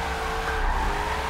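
A car drifting in a racing game played on a Logitech G920 wheel, its engine droning steadily while the tires squeal continuously through the slide, close and moderately loud.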